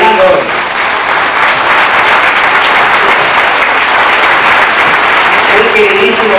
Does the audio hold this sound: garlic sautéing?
no